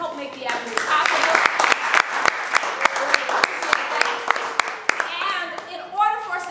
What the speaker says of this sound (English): I would like you to please help me give a round of applause to all those who have helped make The Avenue possible